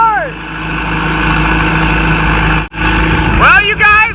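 A Farmall Super C tractor engine runs at a steady idle, a loud close rumble that briefly cuts out once before picking back up, while people talk over it near the end.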